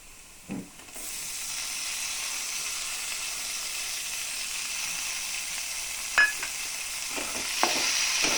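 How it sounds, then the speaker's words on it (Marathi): Two medium chopped tomatoes sautéing in a pan for pasta: a steady, close frying hiss, broken by a few soft clinks of the utensil, with no speech. "आता हा टोमॅटो ही आपण परतून घेऊयात"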